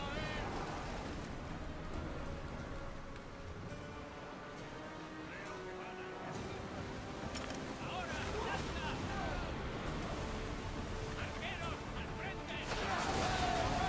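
A sailing ship on the open sea in Assassin's Creed Odyssey moves through waves under gusting wind, with a steady wash of water and wind noise and voices and game sounds layered over it.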